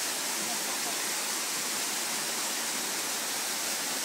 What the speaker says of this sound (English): And there's our adventurous Eldon, who is about to scale a waterfall by the looks of things.